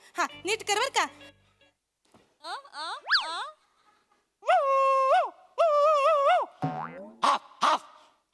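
A man imitates a dog with his voice, giving a series of yelping, whining barks in short bursts, some drawn out, with brief speech between them.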